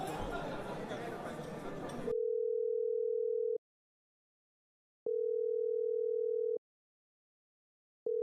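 A telephone ring-back tone while a call is placed: after a short burst of background noise, a steady mid-pitched tone sounds twice in long, evenly spaced pulses separated by silence, loud and alone.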